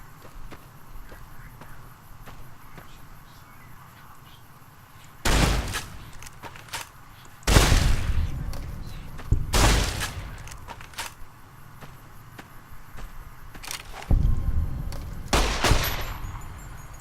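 Shotgun fire in Fallout New Vegas: several loud, separate blasts with gaps of a few seconds between them, over a low game ambience and occasional footsteps.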